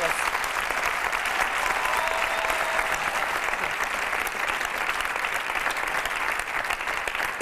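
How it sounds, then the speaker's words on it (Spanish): A television studio audience applauds for Lara Ruiz on the show El Intermedio, with long, dense, steady clapping from a large crowd that holds at full strength throughout. "Un aplauso para Lara Ruiz."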